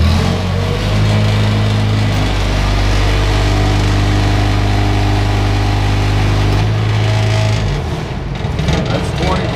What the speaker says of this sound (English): I'll rev it up a little bit where we got our splitter pressure set at